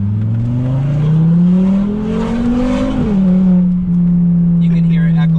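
A Volvo S60R engine revs up loudly while driving, its pitch climbing steadily then dropping and holding steady, close and dominant with a voice talking over it.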